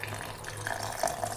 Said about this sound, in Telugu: ఈ చింతపండు నానబెట్టిన నీళ్ళు ఉన్నాయి కదా, అవి పోద్దాం, నార్మల్ నీళ్ళు కాకుండా